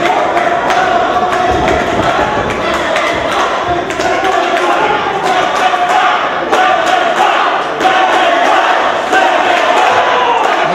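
Loud, dense crowd shouting and cheering at a lucha libre wrestling show in Texas City, a continuous roar with scattered thuds and yells throughout.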